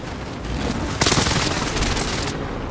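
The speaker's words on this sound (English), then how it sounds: "Airstrike." Video game airstrike with a sudden loud explosive blast and a dense burst of rapid gunfire rolling on for over a second, close and sharp.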